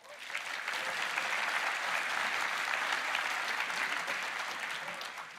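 A conference keynote crowd claps steadily in sustained applause, dense and even throughout, heard from a moderate distance.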